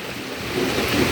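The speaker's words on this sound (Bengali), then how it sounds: "এখন দেখতেছি প্রচুর আকারে বৃষ্টি হচ্ছে" Heavy rain falling at night, a steady broadband wash that swells slightly louder toward the end of the short stretch, heard alone with no voices.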